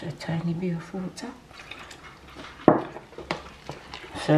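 Lukewarm water trickles and drips into a Ghana doughnut (bofrot) mixture in a bowl, close and fairly soft, with a voice talking over it.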